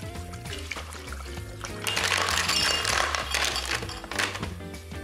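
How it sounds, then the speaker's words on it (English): Cold water pours into the unit of an Epicureanist Quick Chill ice bucket (EP-WBCHL01) holding a bottle, a rushing splash swelling in the middle with light clinks, over steady background music. "add your favorite bottle and fill the unit with cold water"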